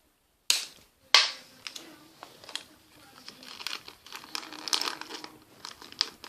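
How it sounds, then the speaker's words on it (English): Scotch tape pulled from a roll while a Christmas present is wrapped: two sharp snaps at the start, then a crinkly stretch of tape and paper handling, close and fairly loud. "And then get a piece of Scotch tape."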